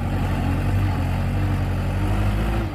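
A Kubota 5018 tractor engine runs at a steady idle, a loud, continuous low diesel rumble with a close, unchanging drone and no talk over it.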